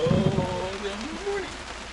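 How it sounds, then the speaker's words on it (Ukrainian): Steady rain falls outdoors as a soft, constant hiss, while a voice speaks over it. "Хоч би ще дощ на пару днів затягнувся"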